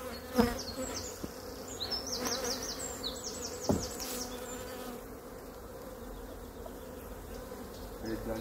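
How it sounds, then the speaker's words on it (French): Honey bees swarm around an open hive while frames are moved from a small nucleus box into a full hive, a dense steady hum with individual bees whining past close by and a couple of soft knocks. "Il y a plein d'abeilles."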